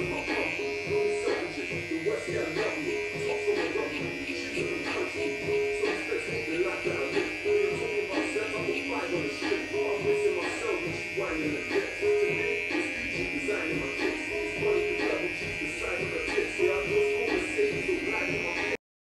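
Electric hair clippers with a guard hum steadily and closely throughout, cutting a mid taper while a person talks over the buzz.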